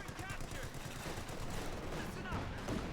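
Heavy machine gun fire in Company of Heroes 2 rattles on steadily across the whole stretch, dense overlapping bursts in a busy battle mix, with a voice talking over the top.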